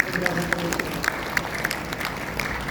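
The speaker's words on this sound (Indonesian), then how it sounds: "Tepuk tangan sekali lagi." Audience applause at a Rotary Club District 3410 gathering in Indonesia, a dense steady patter of many hands with scattered sharper claps, moderately loud in a hall, with some voices mixed in.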